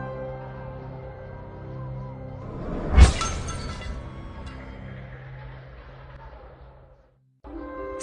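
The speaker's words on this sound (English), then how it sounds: "Elsa heard the sound of a sword shattering behind her." A sword shattering, heard as a single loud, bright crash with a sharp metallic burst that rings briefly and then fades into a low, sustained musical backdrop before cutting to silence.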